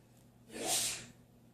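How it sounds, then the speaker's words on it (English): A man sneezes once during a sneezing spell, a short airy burst that swells and fades, fairly close but not loud, over a quiet room with a steady low hum. "My husband having a sneeze spell."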